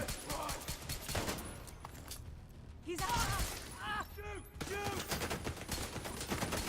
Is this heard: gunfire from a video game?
yes